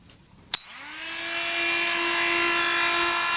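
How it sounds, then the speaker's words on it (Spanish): A power drill starts with a sharp click and spins up to a steady high whine, building in loudness and holding close and strong, preparing to bore holes in a lab power supply. "podemos practicar un par de taladros."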